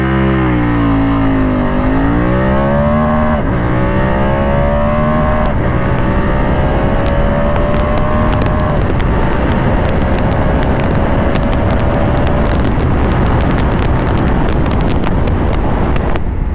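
A BMW F 850 GS Adventure motorcycle pulls away hard in dynamic mode. The engine note climbs sharply through several gear changes, each shift briefly dipping the pitch, and strong wind rush buffets the microphone the whole way.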